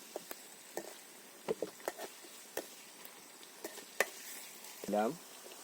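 Food salted and stirred in a pan while cooking aboard a boat in the Sundarbans, heard as scattered scraping knocks and light clatter with a soft sizzle underneath, plus a brief squeak near the end.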